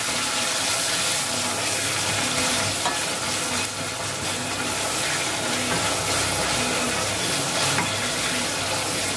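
Sliced onion fries in a pan, a dense, continuous close sizzle with a bubbling, watery texture that holds steady throughout.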